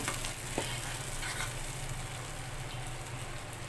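Fish and fried onions are stirred in a hot pan, producing a steady, dense frying hiss with a faint low rumble beneath and an occasional light scrape of the spoon, close by.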